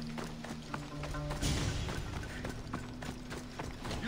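Horse hooves clip-clop steadily in Assassin's Creed Odyssey, soft and fairly quiet, with a brief thud midway under an ambient game soundscape.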